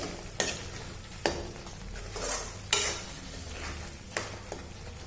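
Cashew paneer masala ingredients fry in a pan while a utensil stirs them, a soft sizzle broken by four sharp scraping strokes spaced about a second apart, close and fairly quiet.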